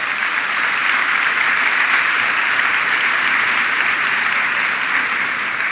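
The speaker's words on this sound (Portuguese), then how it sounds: "Dê uma salva de palmas para essa mulher" A conference crowd at a Christian gathering gives a woman a sustained round of applause, a loud, even wash of many hands clapping with no talk over it.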